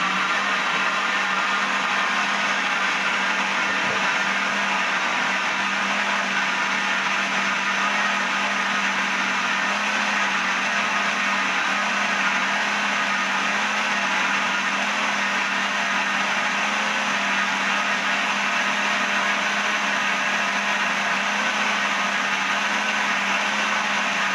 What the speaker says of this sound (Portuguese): depois de ter batido as cenouras, ter ficado grosso, eu boto o leite e bato mais um pouco